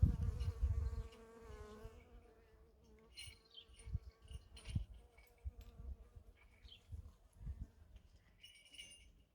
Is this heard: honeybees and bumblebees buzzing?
yes